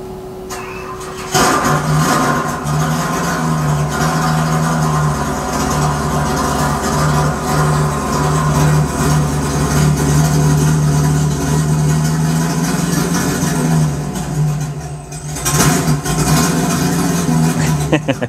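A 2021 Tesla Model Y Performance plays a synthetic driving sound from its external speaker, a sustained droning tone with layered harmonics that holds steady for many seconds and drops out briefly near the end, with a voice talking over parts of it.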